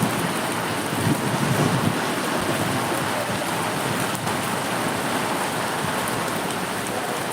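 Heavy summer rain pouring down in Bangalore in 2025, a dense, continuous roar of downpour that stays loud and even throughout, with no voices.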